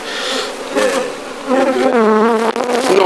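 Honeybees buzz steadily and loudly at close range during a honey harvest in Agboville, Côte d'Ivoire, a dense droning hum that rises and wavers in pitch as the insects swarm near the hive.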